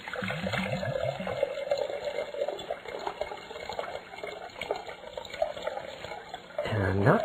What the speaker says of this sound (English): Let's take the water and put it into the beaker.